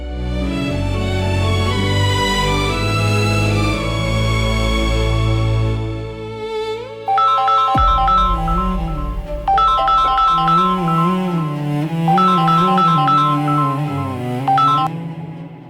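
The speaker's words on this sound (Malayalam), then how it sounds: "നിനക്ക് വിളിച്ച ഫോൺ എടുക്കാൻ വയ്യേ?" A phone ringtone plays as an unanswered call rings out, a loud, steady melodic tune that briefly breaks off and then resumes in a different pattern, with no voices.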